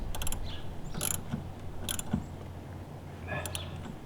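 A ratchet wrench torques a nut during timing belt work on a Volvo XC70, with a few quick bursts of clicking pawl ratcheting over a low steady hum.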